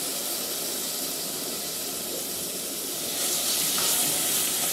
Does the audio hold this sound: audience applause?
no